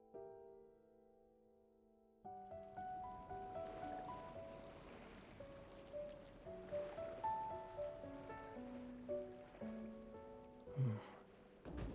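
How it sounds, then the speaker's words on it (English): Gentle ocean waves from a video game event story wash softly in the background, a quiet continuous surf under a light musical score. "Listening to the ocean might help us fall asleep."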